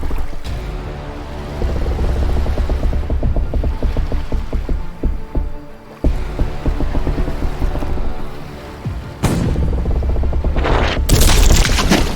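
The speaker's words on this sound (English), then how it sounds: "Fire the cannon!" Loud booming blasts of pirate-ship cannon fire over a rumbling, watery background, with a sharp crashing burst near the end; continuous heavy noise throughout.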